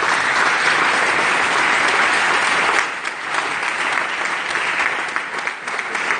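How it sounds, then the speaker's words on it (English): Conference audience applause at a commons gathering in Bologna: a loud, dense wall of clapping from a large crowd, easing slightly midway and continuing with a more uneven, thinning patter. "that really deserves, I think, a big round of applause for those organizations to start with"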